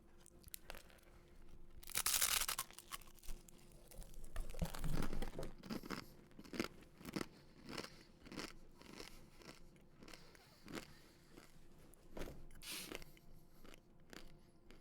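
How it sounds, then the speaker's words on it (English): Someone bites into crumbly struggle food right at the microphone, giving a loud crackling crunch, then a run of close, wet, crackly chewing. "I'm very interested to hear the crunch."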